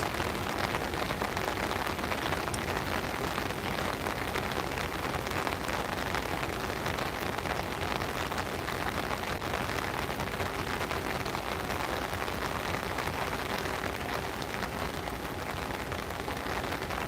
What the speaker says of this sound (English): And yes, those are raindrops.